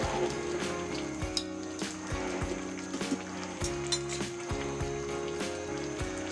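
Beef tehari spice paste fries in a pan while being stirred, a steady sizzle broken by rhythmic scraping and clinking of the spoon against the pan, with a tonal background hum and no talk.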